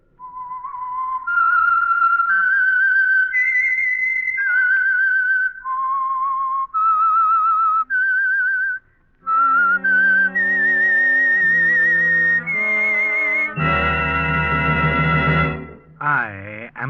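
A person whistles a slow, wavering melody up close, followed by a loud orchestral chord and a gliding whistle, opening a 1949 radio drama.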